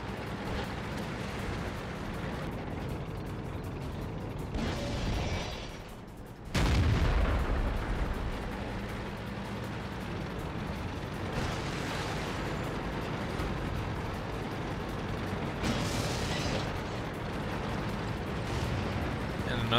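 Heavy booming tank gunfire in World of Tanks on the Steppes map, shells striking a T26E4 Super Pershing's turret, with loud blasts over continuous battle rumble.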